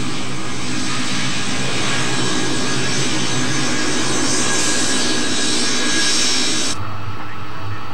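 Learjet jet engines idling while the plane taxis, a loud, steady close whine and roar that cuts off abruptly near the end, with no talk.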